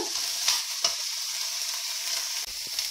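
Minced meat with spices and onions sizzles steadily in a pan, a continuous hiss with a couple of soft stirring scrapes, close and alone without talk.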